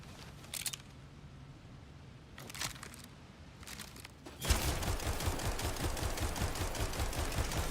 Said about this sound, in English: Very slow firing.